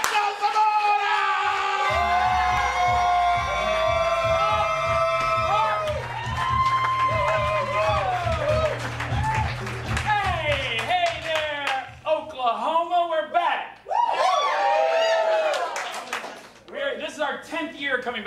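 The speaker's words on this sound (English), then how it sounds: "Give your hands clapping for Zaramora!" An audience at the OKC Improv Festival claps and cheers for an improv group, a dense burst of applause at the start that gives way to performers talking over the fading crowd noise.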